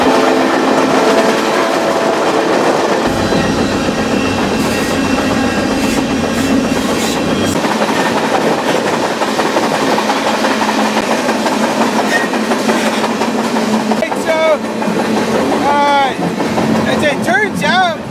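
A passenger train rolls steadily along rails through swampy country near Shreveport, a continuous loud rumble with rhythmic clickety-clack and faint wheel squeal toward the end.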